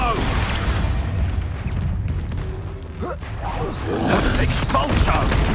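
The Expulso explosion spell in Hogwarts Legacy: loud blasting crashes and rumbling debris in combat, with a swell of impact noise near the end.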